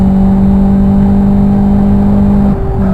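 A race car in an STD Championship round, 2012 spring series, holds a steady loud engine note through a national circuit corner, its tone dipping briefly near the end as it brakes for a right-hander.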